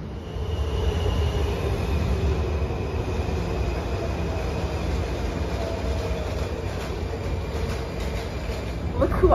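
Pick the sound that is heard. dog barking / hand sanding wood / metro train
metro train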